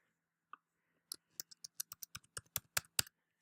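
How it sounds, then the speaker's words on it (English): Keys on a computer keyboard are typed in a quick run of about a dozen crisp clicks, close and fairly quiet, after a single early tap. "I'm going to make sure that I type this in correctly."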